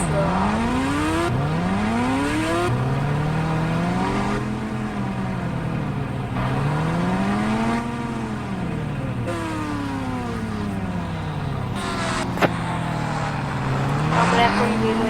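A motorbike engine in the Indian Bike Driving video game revs again and again through rising and falling gear shifts. The steady, loud engine tone sweeps up and down over a constant background drone.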